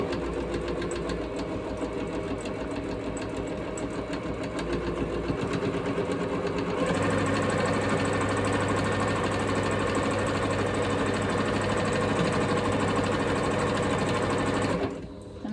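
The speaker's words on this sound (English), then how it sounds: "As you can see, sewing around here, I'm catching all of those threads." A sewing machine stitches around the edge of a quilted Christmas stocking, running as a steady close mechanical whir that picks up louder and denser about halfway through, then stops abruptly near the end.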